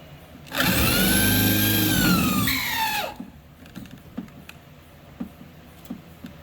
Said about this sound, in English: Just drill the rest out.